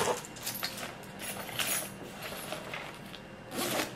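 Keys dropped into a zippered bag, with a zipper rasping open and closed in several short bursts and a faint jingle of metal, close by in a rainy-day setting.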